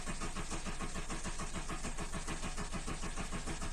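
Opel Vectra B 2.0 DTI diesel with a clogged fuel pickup screen cranking repeatedly, a fast rhythmic starter churn that stays steady and close without the engine catching.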